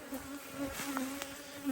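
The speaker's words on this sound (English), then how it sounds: "So I leave a few bees that are there." Bees buzz steadily close by, a soft continuous drone with a few individual insects passing near.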